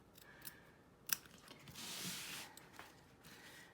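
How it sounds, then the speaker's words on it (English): Duckbill applique scissors snip fabric close up while a stuffed toy is being sewn. A few quiet snips and one sharper crisp clip sound in an otherwise quiet room. "I love my duckbill applique scissors because they let me get right up in there."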